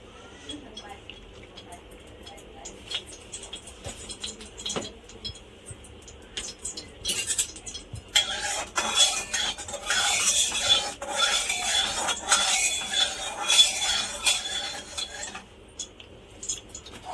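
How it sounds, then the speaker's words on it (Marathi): Ghee being spread around a kadhai for pumpkin gharge, heard as a spoon scraping and rubbing against the metal pan in a steady run of rasping strokes partway through. "पूर्ण कढईला तूप लावून घ्यायचं"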